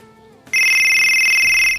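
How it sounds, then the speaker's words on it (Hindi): A custom ringtone that announces the owner's name plays loud and close on a mobile phone, a steady bright electronic tone sounding continuously for over a second after a quiet lead-in. "आप लोग देख सकते हो आपकी जो वो रिंगटोन थी वो प्रिपेयरिंग हो रही है।"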